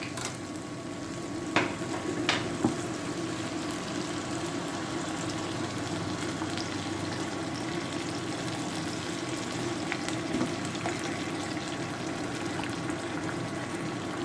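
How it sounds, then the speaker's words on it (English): Heinz barbecue beans tipped into a hot frying pan sizzle steadily, with a few sharp clinks and scrapes of stirring over an even, close crackle. "So I'm going to put most of these beans in."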